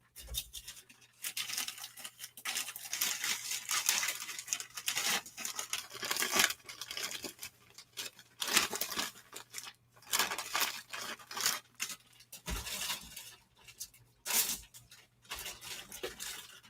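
Plastic poly mailer bag rustled and crinkled while being handled for shipping, close and fairly quiet, with repeated tearing and crinkling bursts and brief pauses throughout.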